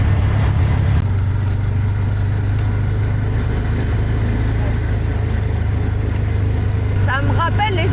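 A rented vehicle in slow, jammed traffic in Cambodia, heard from inside as a steady low engine drone and road rumble, with people talking in French over it and a brief higher chirp near the end.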